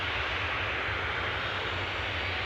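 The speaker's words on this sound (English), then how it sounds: "Loganair, Scotland's finest, with their Embraer 145 off to Bergen." Loganair Embraer 145 jet departing Newcastle airport, a steady broadband engine roar filling the brief stretch without pause or voices.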